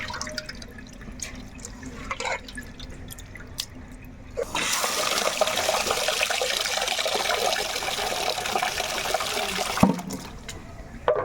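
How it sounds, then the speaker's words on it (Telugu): A steady, loud rush of water pouring into a bucket for several seconds, after quieter dripping and faint background noise. "ఇప్పుడు వాటర్ వేసుకోవాలి"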